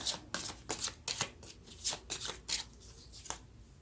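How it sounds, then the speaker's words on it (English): Tarot cards being shuffled and drawn by hand, a close series of quick riffling bursts and soft slaps in an irregular rhythm, quiet and without speech. "Okay, let's get one more card."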